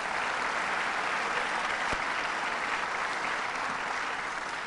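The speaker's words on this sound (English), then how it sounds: "Let's give him a round of applause." A crowd at an airport renovation celebration with a governor and county officials gives a sustained round of applause, even and unbroken throughout, with a single sharp tap standing out midway.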